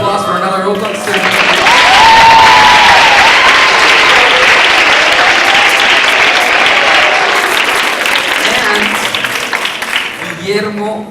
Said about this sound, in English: big applause for another Oaklawn student.